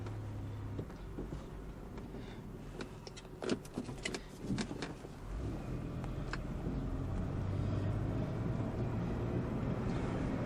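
A 2003 Chevrolet Monte Carlo SS drives along, its low engine and road rumble steady and fairly quiet, with a few light rattles and clicks partway through and no talking.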